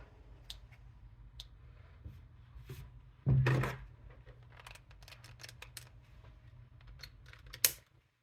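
Scissors snip a small piece of fabric while sewing a waist bag, with a few quiet, sparse clicks and one brief louder cutting burst midway plus a sharp snip near the end.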